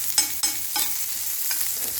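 Onion frying with curry leaves and green chili in hot oil, a steady close sizzle broken by several sharp stirring scrapes at an uneven rhythm, with no voices.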